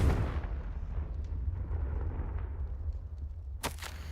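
A Confringo blasting spell in the Hogwarts Legacy video game booms as a loud explosion, a heavy low rumble that decays over a few seconds before a sharp crackling burst near the end.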